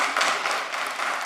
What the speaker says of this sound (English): And I appreciate the applause